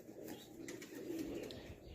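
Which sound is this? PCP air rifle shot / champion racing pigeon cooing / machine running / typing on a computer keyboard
champion racing pigeon cooing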